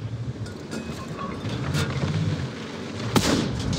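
Tank cannon fire in a tank video game, with muffled booming shots over a constant low engine rumble and one sharper, louder blast near the end.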